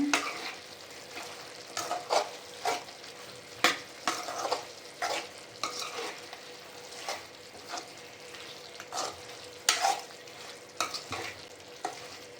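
Coriander and mint being stirred in a frying pan for chicken pulao: repeated scraping strokes over a steady sizzle, close and fairly quiet, with no talk.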